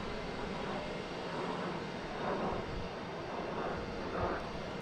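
A JetBlue Airbus A220 from Reagan comes in to land at Boston Logan, a faint, distant, steady jet roar with slight swells in loudness and no voices.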